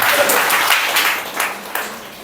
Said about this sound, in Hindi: हाथ ताली बजा के प्रभु को धन्यवाद।